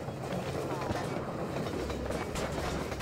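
Half-Life 2 video game train rushing past, a steady broadband rumble and clatter filling the whole stretch at an even, loud level.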